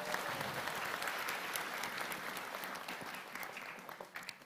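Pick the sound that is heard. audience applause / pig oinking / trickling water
audience applause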